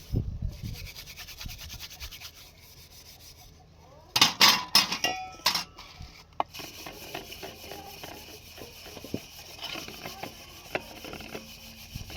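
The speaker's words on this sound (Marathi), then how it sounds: "चला पटपट भांडी घासून घेऊया" Dishes are scrubbed by hand, with rubbing strokes, scraping and occasional clinks of metal pots, the loudest burst partway through.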